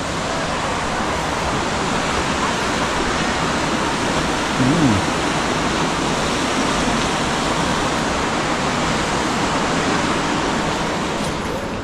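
Steady roaring rush of the waterfall at Johnston Canyon in Banff, Alberta, a continuous broadband wash of falling water heard up close and loud throughout, with a brief faint voice partway through.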